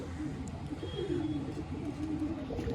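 A Salara pigeon coos in low, soft, rolling phrases that repeat steadily over a faint background hum, close by with no talking.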